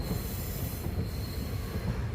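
A train rolls along the tracks on the Punalur–Chenkottai line with a low rumble and a faint high squeal of wheels, steady and moderately quiet throughout.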